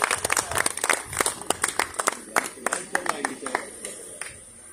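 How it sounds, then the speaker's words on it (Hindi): Applause at an Indian wedding stage event as a guest is welcomed: many hands clapping in a dense, uneven patter with sharp individual claps standing out, moderately close, fading slightly toward the end while voices murmur underneath. "जोरदार तालियां।"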